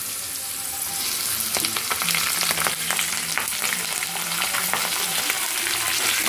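Cumin, mustard seeds and curry leaves fry in hot oil with a loud continuous sizzle, crackling and popping throughout, and occasional stirring scrapes in the pan.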